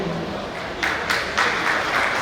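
An audience claps to welcome officials at a felicitation ceremony for teachers at Seth Govindram Shobharam High School. The clapping is a steady wash that starts softly and swells into fuller, louder applause.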